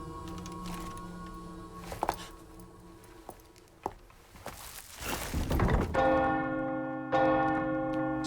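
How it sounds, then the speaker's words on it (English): A church bell tolls in the video game Resident Evil 4 Remake: scattered thuds and clatter come first, then two loud, resonant bell strikes about a second apart, each ringing out and slowly decaying. "She rang the bell."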